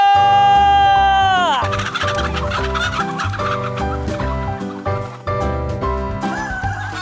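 Free-range chickens on a mountainside farm in Yecheon, North Gyeongsang, cluck loudly and repeatedly against layered music, with a high descending tone at the start.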